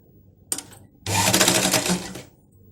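A sewing machine runs a short burst of stitching along the shoulder seam of a cotton frock, with a brief start at first, then a steady, fairly loud whirring run of a little over a second, close by and with no voices.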